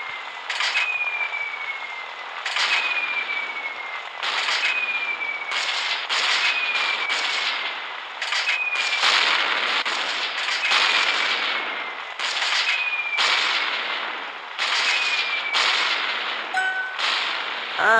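Bombs dropped in the mobile game Gunship Battle burst one after another, a long rapid string of sharp explosions with falling whistles between them, loud and close with no talking.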